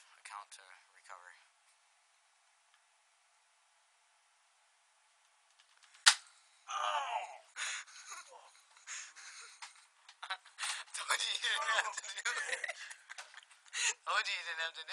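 An airsoft gun is fired point-blank at a person's face, giving one sharp snap near the six-second mark after a quiet stretch, then loud voices and scuffling follow.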